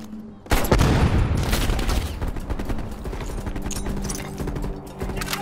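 Dense burst of gunfire from Call of Duty: Cold War, shooting off landmines in the game, starting abruptly after a brief quiet and continuing as loud overlapping rapid shots with booms for several seconds.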